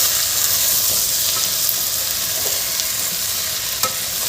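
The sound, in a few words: stirring masale bhat with coriander in a pan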